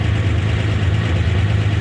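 A Corvair engine powering a Wayne 100 boat runs with no cooling, a steady, loud, close idle-like drone with a low rumbling pulse that holds unbroken throughout, no voices over it.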